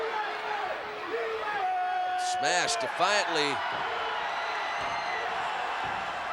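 A wrestling arena crowd cheering for Hacksaw Jim Duggan, a constant roar with whoops, under a commentator's voice.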